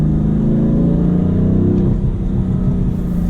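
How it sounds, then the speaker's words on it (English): BMW M3 F80 twin-turbo engine pulling hard out of a corner, a loud, steady low mid-range drone sustained throughout with a slight dip in pitch near the end, no voices. "The low end torque produced by the twin turbos does a good job pulling the car out of the corners."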